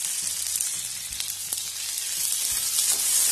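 Shallots, green chilies and curry leaves fry in hot oil with a dense, bright, continuous sizzle, close up, with a few faint clicks of stirring and no talk.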